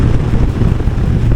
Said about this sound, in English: the crosswind, like right here, I do not like that